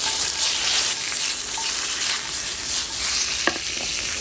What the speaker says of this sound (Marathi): मिरसांग, स्वीट पेपर्स, हे तळसून घेवया आमी.